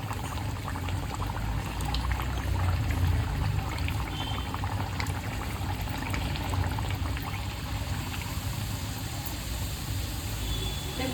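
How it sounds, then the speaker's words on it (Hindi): Puri frying in hot oil in a home kitchen, giving a continuous, fairly loud crackling sizzle that holds steady throughout with small bubbling pops. "देखो अच्छा से पूरी फ्राई करेंगे।"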